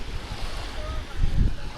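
Surf washing onto a beach by the sea at a tourist spot, a steady soft rush with a slightly louder surge near the end, with wind noise on the microphone.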